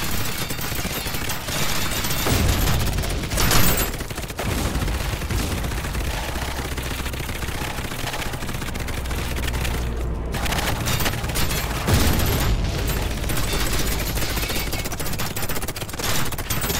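Small soldiers shooting nonstop in BeachHead 2020, a VR remake of a retro shooter, dense rattling gunfire and bursts blending into a loud, continuous battlefield din with occasional heavier booms.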